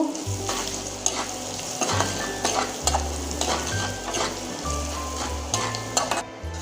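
Ground cumin, coriander and bay leaf being stirred into a frying pan of cabbage, with steady sizzling broken by repeated scraping strokes and occasional light clinks of the spoon against the pan.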